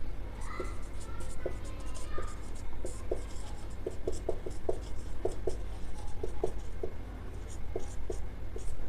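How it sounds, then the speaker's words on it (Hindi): Chalk or marker tapping and scratching on a classroom board as a teacher writes during a Rajasthan history lesson, a series of short, crisp strokes in irregular bursts over a steady low background hum. "मैं लिख देता हूँ यहाँ पे।"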